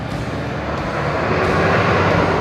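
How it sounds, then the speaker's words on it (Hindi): A loud, steady roar from a Toyota Hilux pickup engine revving in 4x4 while off-roading, swelling slightly toward the end, with no voices. "क्या शानदार आवाज करता है भाई इसका इंजन।"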